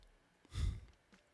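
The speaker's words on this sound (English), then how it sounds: "Sorry for that yawn" One brief, soft yawn from a guitarist between spoken thoughts, a breathy exhale swelling and fading within a second, close and quiet in a still room.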